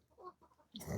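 Chickens fighting and kicking each other at a rural Thai farmhouse, with soft clucking first, then a sudden loud burst of scuffling, flapping wings and squawks in the final moments.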